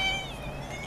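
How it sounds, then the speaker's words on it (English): A cat gives a single short, fairly faint meow close by, with light background noise and no talk. "Here comes my kitty."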